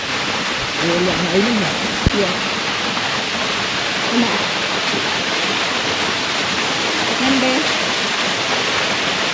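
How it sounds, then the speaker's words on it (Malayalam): A waterfall on the Everest Base Camp trek in Nepal roars with a dense, steady rush of falling water, while voices are heard faintly talking beneath it. "ട്രെക്കിങ്ങിനിടയിൽ ഇങ്ങനെ നല്ലൊരു വെള്ളച്ചാട്ടം കണ്ടു"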